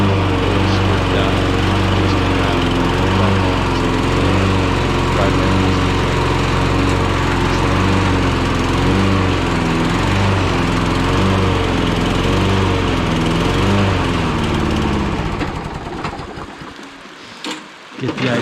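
A Murray bagger lawn mower's engine runs loud and steady close by, with a droning, slightly wavering hum that holds for about fifteen seconds before cutting off abruptly, leaving a brief rattle as it winds down.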